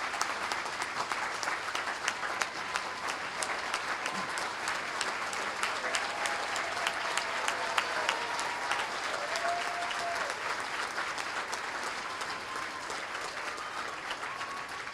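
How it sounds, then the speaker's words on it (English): At an education awards ceremony, a large audience gives a long, even round of applause for honoured educators, dense clapping continuing unbroken for the whole stretch. "give one last congratulatory round of applause to our wonderful Educators of"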